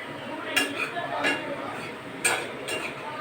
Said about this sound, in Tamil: இது பொண்ணு நிறமாக வறுத்துக்கலாம் பன்னீர் நல்லா இந்த இந்தளவுக்கு வத்தா போதும்